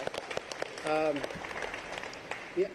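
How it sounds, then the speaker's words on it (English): Audience applause at an event celebrating the naming of the new Savannah arena, steady clapping spread through the whole clip with voices calling out over it. "big round of applause for that"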